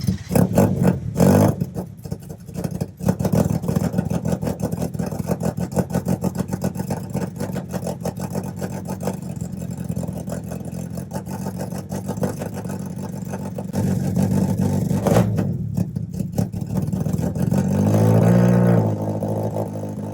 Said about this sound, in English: Now we can really start the car up, drive around, see where we're at, because now the exhaust is completely done.